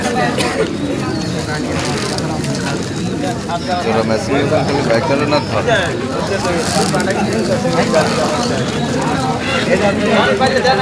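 Pigeons sold at a village bird market give steady cooing and fluttering under busy crowd chatter and nearby talk that runs through the whole stretch.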